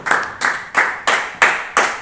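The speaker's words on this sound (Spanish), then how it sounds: "denle un aplauso a Cristo Jesús" Church audience clapping in unison during a sermon: six loud, sharp claps in a slow, even beat, each one ringing briefly in the room before the next.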